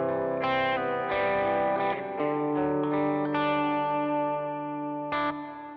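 Sustained guitar chords ring through the mid reverb setting on a worship pedalboard, with shifting harmonies and long, smooth ambient tails, steady and full with no talk.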